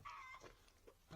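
Chicken clucking near a farm homestead, a few short bursts of fowl calls across about a second, fairly close and moderately loud, with no talk over it.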